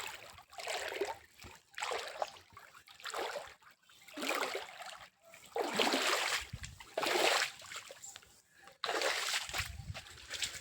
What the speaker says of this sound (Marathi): आपण इथून ह्या पाण्यातून जाऊया